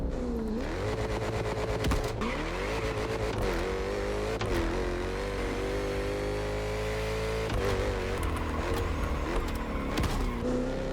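Jaguar F-Type engine in The Crew Motorfest driving game, revving up and down repeatedly with a whining edge, pitch climbing and dropping in quick surges under a constant loud roar.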